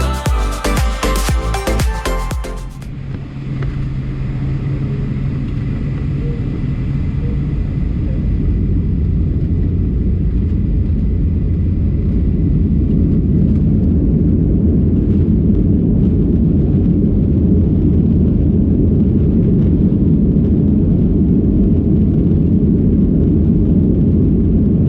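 A Condor Boeing 757 taking off from Munich airport, heard from inside the cabin: after a brief burst of other noise, the engine roar builds into a loud, sustained rumble that holds to the end.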